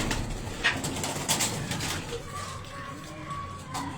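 Pigeons cooing softly on a rooftop loft among prized racing birds, low murmuring coos with a few brief chirps and faint background noise throughout.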